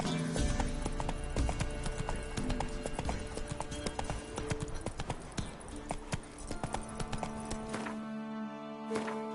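Roach, a horse in the video game Witcher 3, gallops with fast, loud clip-clop hoofbeats over game music, slowing near the end with a brief whinny-like sound.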